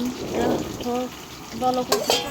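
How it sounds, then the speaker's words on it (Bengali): Meat, sauce and boiled vegetables are stirred in a frying pan, with soft scraping and low sizzle under a few brief voiced sounds and light utensil clinks near the end. "একটু গোলমরিচ ভালো করে নাড়া হচ্ছে"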